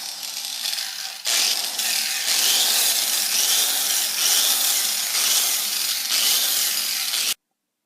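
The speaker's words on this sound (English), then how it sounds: "I'm going to buff this real quick just so you can see it better." A buffing tool works over stainless steel welds with a loud, harsh whirring grind, rising sharply after a quieter start and holding steady before cutting off abruptly.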